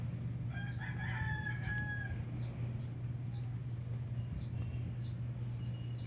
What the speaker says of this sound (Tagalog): Tukturuk, sabi ng manok.